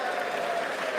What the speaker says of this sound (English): Republican claps